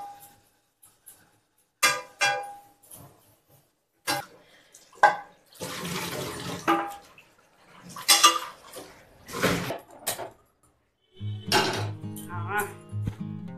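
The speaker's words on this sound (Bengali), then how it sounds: "এই একটা নতুন কড়াই কিনেছি, সেটা হচ্ছে প্রেস্টিজের। এটাকে আগে একটু ধুয়ে নিই।" Someone washes a new Prestige kadai in a sink with short bursts of running water and sharp metallic clanks and scrapes. The sounds come in separate bursts with quiet gaps between them, close and fairly loud.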